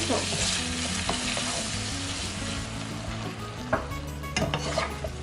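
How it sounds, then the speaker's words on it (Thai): Shrimp stir-fried with holy basil in a pan hiss and sizzle steadily up close, broken by a few sharp scrapes and knocks of the spatula near the end. "ก็เป็นอันเสร็จสิ้นสำหรับการผัดกระเพรากุ้งนะคะ"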